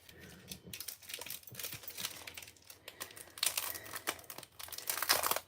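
A package is torn open by hand without scissors, giving bursts of crinkling, rustling paper and plastic with sharp rips that grow louder toward the end, close by and with no talk.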